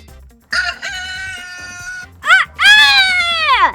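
A person imitates a rooster's crow with the voice, two drawn-out rising and falling calls with a short break between them, loud and close.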